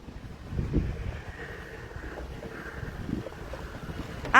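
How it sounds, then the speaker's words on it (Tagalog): Wind buffets the microphone in low rumbling gusts, steady and fairly close, with a brief sharper noise at the very end. "Mahangin po."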